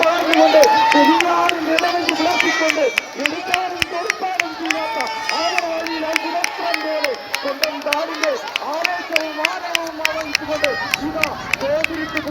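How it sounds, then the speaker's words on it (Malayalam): Spectators cheer from the bank at the final of the Gothuruthu boat race in Kerala in 2024. Rhythmic group chanting and shouts ride over a steady beat, and a commentator talks throughout. "കരയിലെ ആവേശം തുറക്കാരുടെ കൈകളിലേക്കും ആർപ്പുവിളികളിലേക്കും"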